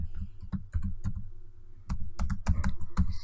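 Typing code on a computer keyboard: irregular bursts of close, crisp key clicks with short pauses between runs, no voices.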